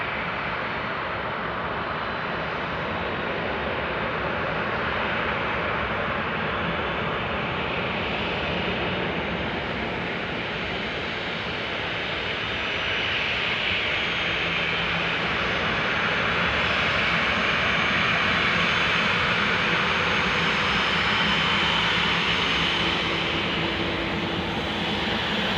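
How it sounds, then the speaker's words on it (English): A Boeing 737-800 airliner taxis in close by at Tucson International Airport, its engines giving a steady, loud broadband roar that swells slightly toward the end, with no talk over it. "let's watch this 737-800 taxi in. Up close and personal."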